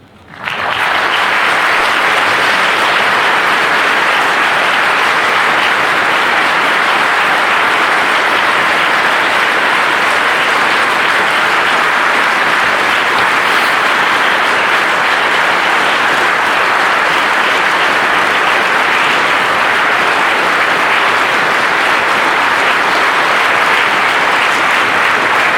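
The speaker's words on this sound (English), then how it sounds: "Well, thanks for that applause" Sustained, loud applause from a lecture audience, dense and steady for the whole stretch with no voices standing out, starting abruptly and holding at full strength throughout.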